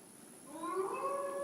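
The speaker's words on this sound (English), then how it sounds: "Oh, that is not the sound of a dog, Ira. That is a wolf." A wolf howls in Assassin's Creed Valhalla, a long rising, wavering cry that swells in from faint to moderately loud over steady background ambience, with no talk over it.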